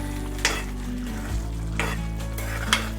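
Bhatura dough fries in hot oil over a gas flame, a steady close sizzle with a few light clinks of a utensil against the pan, no talk.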